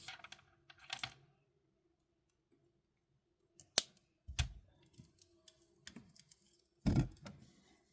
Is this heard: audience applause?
no